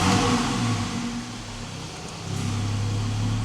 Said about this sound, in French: Toujours les échappements ouverts, c'est important.